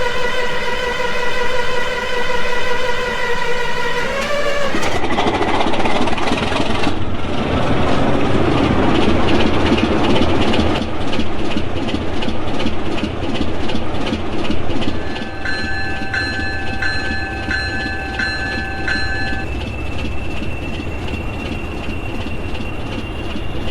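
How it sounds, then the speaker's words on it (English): Class 37 diesel locomotive 37906 with a Ruston RK27T engine running on a test run around a yard, a loud, steady engine drone with rhythmic clatter, tonal whines and horn-like sustained tones, no voices. "After warming up, the loco runs a short test run around the yard."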